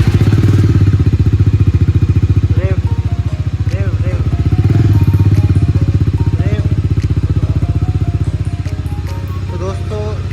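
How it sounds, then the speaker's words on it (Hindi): A Bajaj Dominar 250 motorcycle idles with a deep, steady thumping exhaust, loud and close, with faint clicks and rattles scattered over the engine's throb. "आपको इसकी एग्जॉस्ट साउंड सुना देते हैं डोमिनार 250 की"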